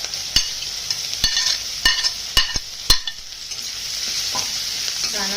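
Onion with green chillies being sautéed in a pan for a dry potato bhaji, several sharp spatula knocks and scrapes against the pan over a continuous hiss of frying, close up, the strokes fading into steady sizzling near the end.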